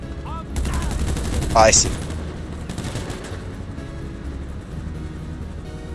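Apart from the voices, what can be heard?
gunfire in GTA Online video game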